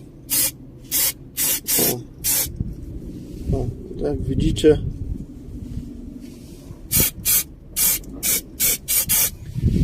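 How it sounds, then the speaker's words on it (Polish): Bursts of rust paint sprayed from an aerosol can, a series of short hissing blasts at the start and again near the end, with someone talking and handling noise in the quiet middle stretch. "mamy naszego rusta w sprayu to sobie zapsikamy"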